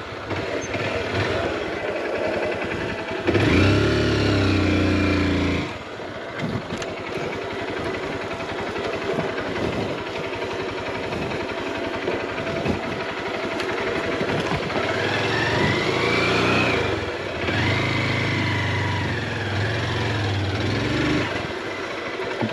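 A heavily loaded motorcycle engine drones steadily on a road trip through Brazil, a continuous rumble with rising and falling pitch, with no speech.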